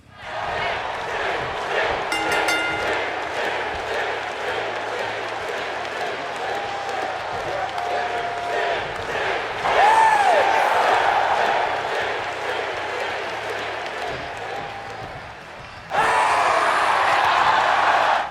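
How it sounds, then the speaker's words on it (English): A WWE 2K23 video game arena crowd chants and roars during Sting's entrance, with a continuous loud crowd bed, a few tonal calls, and a sharp swell of cheering near the end. "hidden crowd chants when the match begins"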